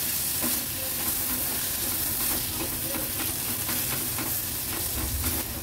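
A medium tomato sizzles and is stirred into masala in a kadhai, loud continuous frying hiss with scraping stir strokes throughout.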